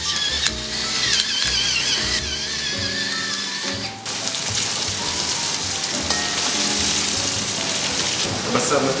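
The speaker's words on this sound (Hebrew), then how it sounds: "הבשר מטוגן היטב" Meat frying in a pot for Uzbek plov, a loud steady sizzle and crackle filling the whole stretch, close up, with brief scraping or stirring noises along with it.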